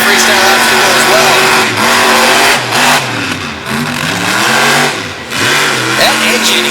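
A monster truck engine at a freestyle competition in Radford, Virginia, screams loudly at high revs while suffering a possible transmission problem, its pitch sweeping up and down with brief dips as the throttle changes, close and dominant.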